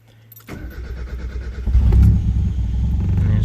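A Mazda MX-5 Miata engine, freshly fitted with coil-on-plug ignition, cranks briefly and catches, then settles into a steady, close, deep idle rumble that swells after a second and holds on its own.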